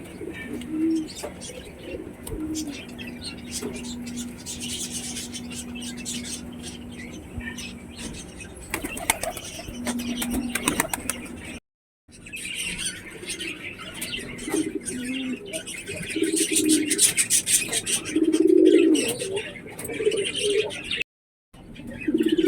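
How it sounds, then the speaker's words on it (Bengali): Pigeons let out into open air in the morning, with soft cooing and occasional wing flaps against a steady outdoor background, fairly close and moderately loud. "আজকে দেখো আমার পায়রাগুলো বাইরে ছেড়ে দিয়েছি"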